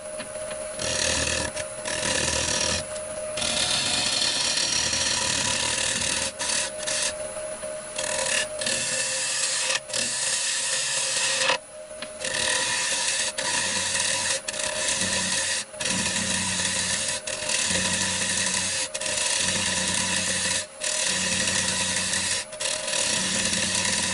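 Woodturning tool cutting the back of a sapele bowl spinning on a lathe, a steady loud scraping rasp with brief gaps as the tool lifts off and returns.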